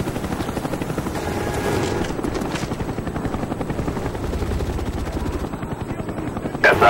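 Cobra attack helicopter in the Black Ops video game, a loud, close rotor chop pulsing steadily throughout, with faint game effects at the end and no talking.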